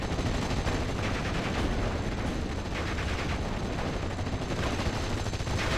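Rifle and machine gun fire from the World War II strategy game Steel Division: Normandy 44, a dense, continuous barrage of overlapping gunshots and bursts with no talk.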